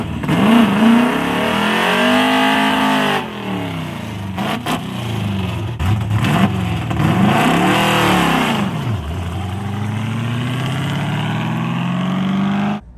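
A Plymouth Barracuda drag car launches loudly up close, its engine revving, bogging and stumbling with uneven surges and dips before pulling away with a rising, steady drone, with no talk.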